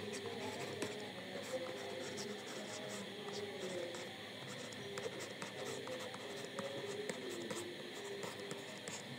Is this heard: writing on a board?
yes